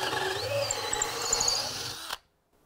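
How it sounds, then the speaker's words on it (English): A power drill bores drainage holes through the wooden bottom planks of a mini elevated raised bed, a steady close whirring grind for about two seconds that then cuts off abruptly to silence. "we're just gonna drill the holes every 2 to 3 inches apart throughout the bottom of the bed"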